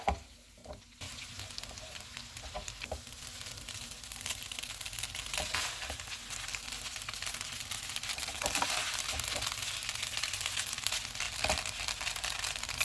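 Spaghetti being tossed with garlic chicken in a hot pan, a continuous loud sizzle and crackle with repeated stirring scrapes, no voices.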